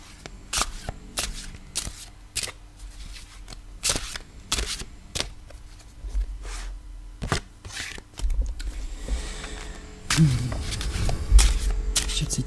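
A deck of tarot-style grief cards being shuffled close up, with repeated sharp riffling bursts and soft slaps in an irregular rhythm and a denser, louder shuffle near the end, with no talking.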